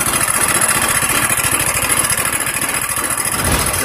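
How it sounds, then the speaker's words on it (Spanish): A Honda Beat 100cc scooter with a rebored cylinder, adjusted valves and a non-original exhaust idles close by, a steady rapid putter with a slightly uneven, rough beat throughout. "Pero escuchen el motor, no sé si sea normal"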